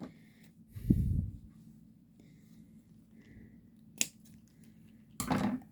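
Scissors snip through floppy ribbon trim on a craft table, with a brief cutting burst near the start and two quick snips later, close and clear over a quiet room.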